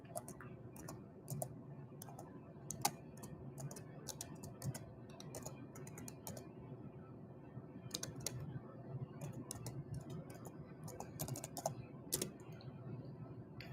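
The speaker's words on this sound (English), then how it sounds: "let me type that in" Steady rapid typing on a computer keyboard, with continuous soft key clicks and occasional sharper taps, fairly close and alone without talk.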